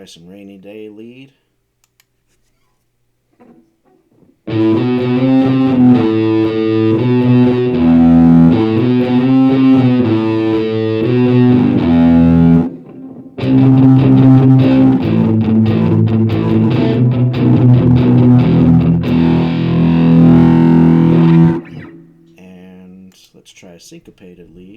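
A heavily distorted electric guitar through a Rainy Day lead effect in BandLab Cakewalk plays a loud, sustained lead line with a brief break partway through, ending abruptly.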